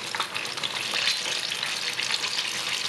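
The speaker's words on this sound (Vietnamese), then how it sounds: "Nãy giờ mình khuyên chiên khoảng 2 phút nè," Banana fritters made from ripe bananas deep-fry in hot oil, giving a steady, dense crackling sizzle that stays fairly close and even throughout, with no voices over it.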